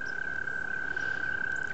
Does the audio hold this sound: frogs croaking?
yes